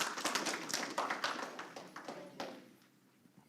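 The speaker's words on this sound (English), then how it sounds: "Please, no applause." Scattered hand clapping from a small audience at a North Carolina Marine Fisheries Commission business meeting, a brief patter of claps that thins out and fades to near silence.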